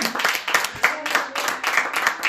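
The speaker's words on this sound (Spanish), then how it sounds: "¿Le puede dar un aplauso a él?" Congregation in a church giving a round of applause, a lively burst of many hands clapping in uneven rhythm, close and fairly loud throughout.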